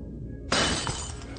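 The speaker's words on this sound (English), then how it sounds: "And then that glass that broke there." Glass shatters suddenly with a bright crash, the broken pieces ringing briefly before fading into background noise.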